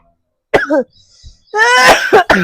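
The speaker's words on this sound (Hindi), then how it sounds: "मुझे खांसी उठ रही है" An old man coughs in a domestic setting: a short hoarse cough, a brief pause, then a longer, louder fit of raspy coughing, close and clear with no other sound.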